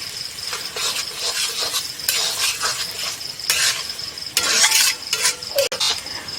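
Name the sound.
stirring Maggi noodles frying in a pan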